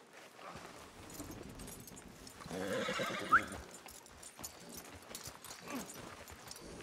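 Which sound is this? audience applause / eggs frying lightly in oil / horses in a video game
horses in a video game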